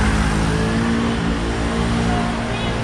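Honda car passing by on a Macau street, a steady broadband traffic rumble with engine drone that stays fairly constant over a few seconds.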